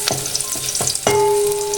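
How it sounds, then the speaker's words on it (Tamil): Chopped garlic fries in oil in a pan with cumin seeds, a close crackling sizzle punctuated by a few louder spatters and stirring scrapes, with no talking. "பூண்டு நல்லா பொரியட்டும்."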